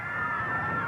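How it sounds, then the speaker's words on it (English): A packed wrestling crowd at the Houston County Farm Center cheers and shouts in a steady, dense roar, brief and fairly loud. "And what a crowd we have here tonight at the Houston County Farm Center."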